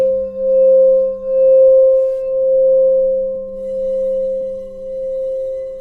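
A sustained, pure ringing tone like a crystal singing bowl, smooth and steady with gentle swells in loudness, alone and close.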